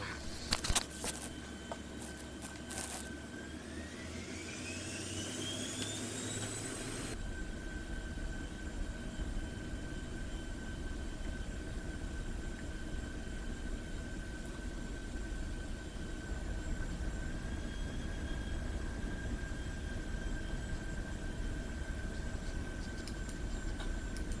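Cirrus Vision Jet in X-Plane 12 rolling for takeoff on runway 27, a steady simulated jet engine drone with a rising whine early on, continuous and fairly loud with no talk.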